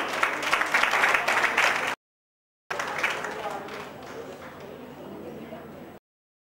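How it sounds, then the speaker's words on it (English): A crowd claps in steady, dense applause, breaking off briefly before a second, slightly softer round continues and fades. "Please give a huge round of applause to sir."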